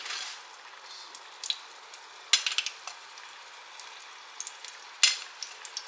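Meatballs frying in hot oil in a skillet, a steady close sizzle with crackles and sharp spattering pops bursting out at intervals, no voices.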